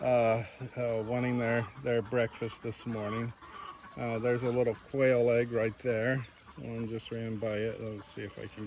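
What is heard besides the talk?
No everyday noises stand out.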